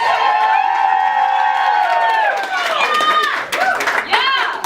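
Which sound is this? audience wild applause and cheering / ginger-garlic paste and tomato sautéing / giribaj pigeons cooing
audience wild applause and cheering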